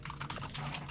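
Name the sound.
typing on a loud computer keyboard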